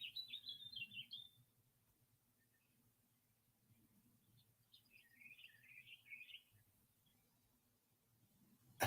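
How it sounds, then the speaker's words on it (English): Birds chirp faintly outdoors near a Ford Bronco, with a brief burst of high tweets at the start and another twittering run a few seconds later, in otherwise quiet surroundings. "Birds."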